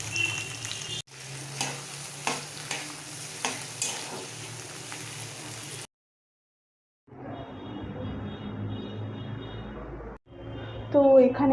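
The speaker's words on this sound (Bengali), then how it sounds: "এখানে আমার ফ্রাইড রাইসের ভেজিটেবলসগুলো ভাজা হয়ে গেছে, আর একটু ভাজা হবে।" Mixed vegetables for fried rice fry in a wok with a steady, close sizzle that cuts out for about a second before resuming, ending with a louder burst of crackling.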